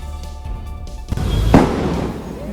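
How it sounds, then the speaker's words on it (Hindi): Loud bangs from a burning electric bus, a few sharp close cracks and pops over the roar and crackle of the fire. "जलती बस में धमाके ऐसे हो रहे थे मानो उसके अंदर पटाखे रखे"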